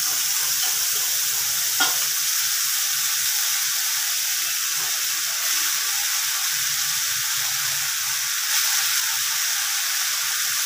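Masala spice paste frying in a hot pan, a steady, loud sizzle with a constant hiss throughout and a faint clink of a utensil early on.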